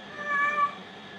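A pet cat gives a single clear, drawn-out meow, close and fairly loud against a quiet room.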